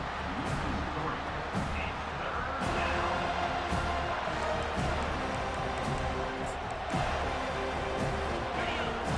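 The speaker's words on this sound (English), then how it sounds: "Third down, and this crowd will blow out a vocal cord to help this defense." Stadium crowd roaring on a third down in EA Sports College Football 25, a dense, steady wall of cheering and noise that stays loud throughout, with faint commentary mixed underneath.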